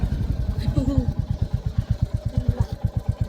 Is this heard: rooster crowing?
no